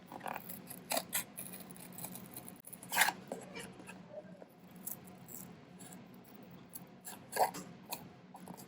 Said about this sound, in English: Now I'm going to do the rest with scissors.